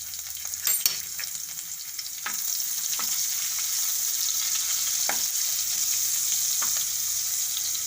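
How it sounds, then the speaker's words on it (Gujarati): Asafoetida and chilies hitting hot oil on lowered gas heat while cooking a carrot and fenugreek shaak, giving a steady close hiss and crackle with a few sharp pops and spatters throughout. "ગેસ થોડોક ધીમો કરી નાખશું અને આપણે આ હિંગ નાખી દેવું અને મરચાં નાખી દેવું।"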